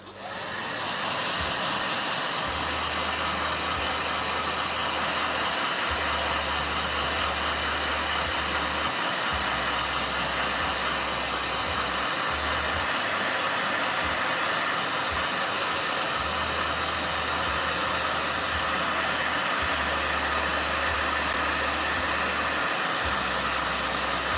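A blow dryer runs loudly and continuously with a steady hiss, while a low hum switches on and off in the background.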